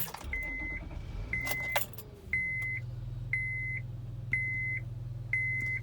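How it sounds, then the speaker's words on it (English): A 2006 Honda Odyssey minivan starting: a series of evenly spaced electronic chimes, then the engine catches and settles into a steady low idle that continues under further chimes. No one speaks. "I'm going to go ahead and start the car and show you some of the cool features that the car has."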